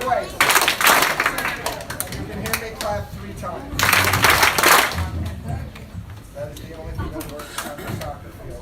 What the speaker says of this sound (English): You can hear me, clap once.